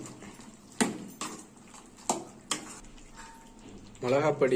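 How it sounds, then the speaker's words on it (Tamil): A spoon stirring chicken gravy with chili powder in a pan, several distinct scraping knocks against the metal at close range, followed by a voice speaking at the end. "நல்லா கிண்டி விடுங்க"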